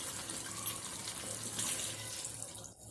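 Water is poured into a pan of chicken curry cooking on high flame, a steady soft splashing stream that runs throughout, faint and alone.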